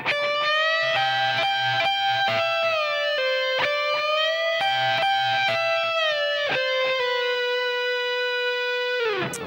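Distorted electric guitar plays a melodic phrase from a guitar solo, with sustained bends and picked notes ringing loud and close for the whole stretch, with no voices.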